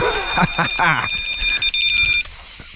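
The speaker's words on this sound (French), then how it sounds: "petit bip sur la canne" A carp-fishing rod's bite alarm gives a steady high electronic tone for about two seconds, heard under someone talking nearby before it cuts off.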